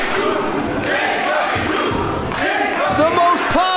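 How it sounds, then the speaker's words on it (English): A crowd at a live wrestling show roars and cheers throughout, with thuds and rising yells from the arena, under a commentator's talk. "Listen to this crowd."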